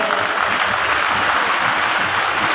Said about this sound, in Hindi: उनका जोरदार ताली बजाकर सभी स्वागत करें।